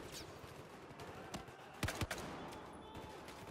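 Gunfire from an M39 EMR sniper rifle in the video game Battlefield 4, several sharp shots, two close together standing out loudly over a busy background of distant combat.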